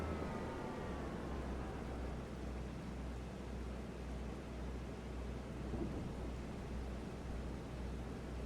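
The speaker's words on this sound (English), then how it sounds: "Oh, it's raining. We can't harvest in the rain." Steady rain with low rumbling thunder in a farming video game, a continuous dense wash of rainfall with a deep undertone throughout.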